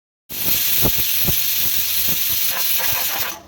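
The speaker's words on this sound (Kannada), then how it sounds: "ಇದಕ್ಕೆ ಮೂರು ವಿಷಲ್ ತಕ್ಕೊಳ್ಬೇಕು" A pressure cooker whistle lets out a loud, steady rush of steam, a continuous high hiss that starts abruptly and holds for several seconds.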